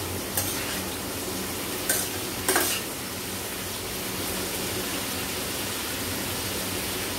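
Onions and chilies fry in a pan with a steady, even sizzle throughout, and a few brief clinks of a utensil stirring near the start and middle, close by and with no talking.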